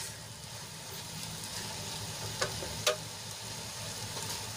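Okra cooking in a pan with a peanut-sesame masala, a steady, soft sizzle with faint frying crackle and a couple of brief clinks from stirring.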